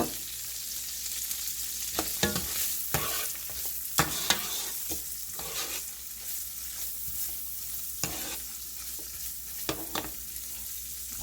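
Onions frying with ground meat in a pot for jollof rice, a steady close sizzle with repeated sharp scrapes and knocks of a spoon stirring.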